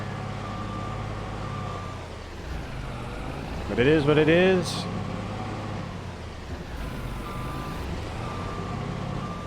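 Snow plow truck in Farming Simulator 22 clearing a snowy parking lot: a brief loud run of reversing beeps over a low, steady engine rumble, with someone talking.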